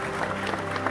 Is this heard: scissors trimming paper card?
no